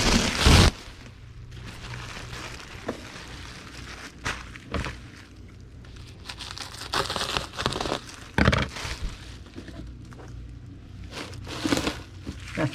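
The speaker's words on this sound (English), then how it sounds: "We'll need a sheet of bubble wrap, and we'll cut it in half." Crinkling and crackling of a sheet of bubble wrap being cut in half with intermittent rustles, snips and handling bumps, close by and with no voices.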